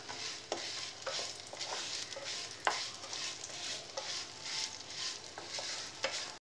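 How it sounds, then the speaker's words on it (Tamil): Vermicelli roasts in leftover ghee for semiya payasam. A soft, even crackle rises and falls with a rhythmic scrape of stirring, fairly quiet and close, with no voices. "இந்த நெய்யிலேயே மீதி இருக்கிற நெய்யிலேயே அந்த சேமியாவை வறுத்து"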